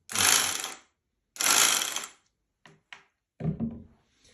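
Two long whirring mechanical bursts from an electric 220V sack-closing sewing machine, followed by a couple of short clicks and a final grinding clatter of its automatic thread trimmer, close up.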